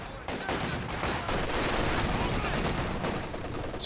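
Sustained machine gun suppression fire in Company of Heroes 2, a dense, continuous crackle of rapid shots and battlefield noise at steady loudness, with voice chatter mixed underneath.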